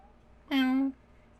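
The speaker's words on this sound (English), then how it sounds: "fucking cat sounds like a monkey, I swear." A single short cat meow from the video game Resident Evil Village, heard alone: one steady, tonal call lasting under half a second.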